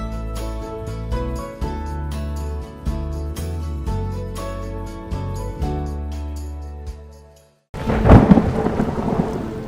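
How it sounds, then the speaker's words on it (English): Deep thunder rumbles and rolls through a rainstorm while steady rain hisses on surfaces, loud and close, with a sustained tonal layer over the storm before a brief pause and another heavy crack of thunder. "The storm doesn't ask."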